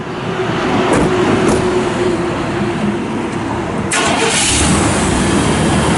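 A 1998 Chevrolet Silverado truck engine cranks and catches, then settles into a steady loud running rumble, heard close with no voices.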